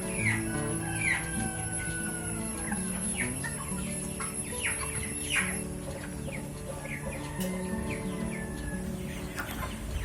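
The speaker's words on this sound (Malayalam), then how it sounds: "27 ദിവസം പ്രായമുള്ള കോഴികളാണ്." A flock of 27-day-old broiler chickens on a farm, many birds clucking and cheeping together in a busy, continuous chorus, close and steady, over a low hum.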